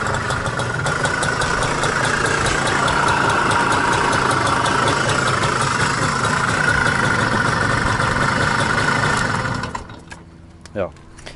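A loud Puch Maxi moped with an aftermarket cylinder, large intake and big exhaust runs at a fast, steady buzzing rattle close by, then cuts out near the end, leaving brief quiet and a small clunk.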